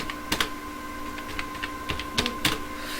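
Fingers type on a computer keyboard while entering a name into an online certificate form, irregular clusters of close, crisp key clicks with short pauses between bursts.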